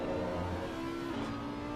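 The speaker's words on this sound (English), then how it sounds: "The Audi does just sound so good" An Audi race car competes in the 24 Hours of Spa endurance race, its engine giving a brief, steady droning roar that holds at a moderate level without any voices.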